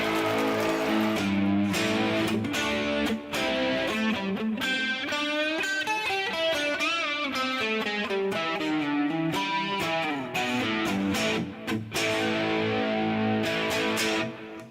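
Electric guitar played through an amp with little distortion, loud and close, sustained chords and ringing notes with sliding pitch bends and rapid picked passages, no voices.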